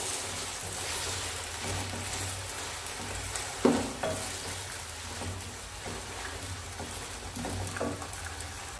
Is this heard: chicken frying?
yes